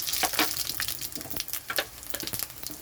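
Dry red chillies and panch phoron sizzle in hot mustard oil in a kadai, giving a close, steady crackle with rapid spitting pops throughout.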